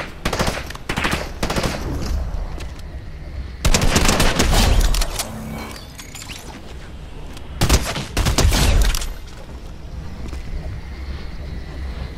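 Video game gunfire erupts in loud, rapid automatic bursts, with several sustained volleys separated by brief lulls of quieter ambient noise.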